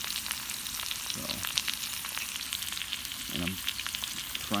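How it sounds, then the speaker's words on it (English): Potatoes fry in a pan at a winter campsite, giving a steady crackling sizzle with scattered pops, close and continuous, and a couple of faint low voices in the background. "I'm frying up the last of those potatoes."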